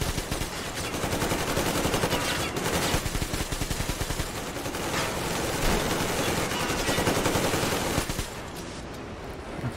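Sustained rapid automatic gunfire in Metro Exodus, dense rattling bursts filling nearly ten seconds at close range, easing slightly near the end, with no talking.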